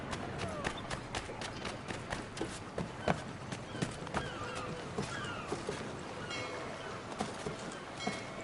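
Horse hooves clip-clopping in Assassin's Creed 3, a steady run of close, fairly quiet hoofbeats over a busy game ambience, with no voices.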